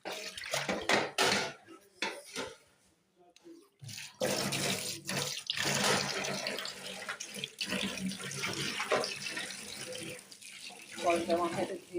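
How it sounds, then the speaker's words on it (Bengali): Tap water runs into a sink basin where water has collected, with a steady splashing flow, a short quieter gap, and occasional clinks of dishes nearby. "জল জমা হয়ে গেছে বেসিনে।"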